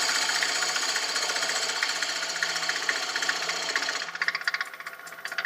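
A full gouge cuts a recess into spinning wood on a lathe, a steady close scraping hum with a faint motor tone underneath that turns choppier and rattly near the end.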